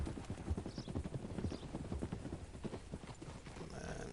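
Horse hooves clip-clop steadily at a walking pace in the Red Dead video game, close and fairly loud, with a faint whinny in the background.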